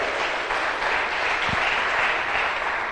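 Steady applause from a church congregation during a sermon, sustained and even throughout, filling the room with dense clapping.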